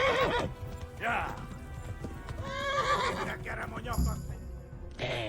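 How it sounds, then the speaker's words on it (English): A horse in the medieval video game Kingdom Come Deliverance gallops with rhythmic clip-clop hoofbeats and lets out loud neighs and whinnies, close and prominent, while a player talks over it. "I'm on a horse."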